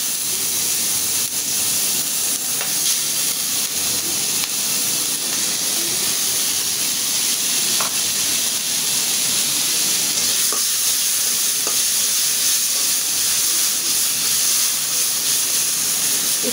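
Tiny whole shrimp with heads on fry in a pan, giving a loud, steady hissing sizzle throughout with faint occasional stirring clicks, no talking.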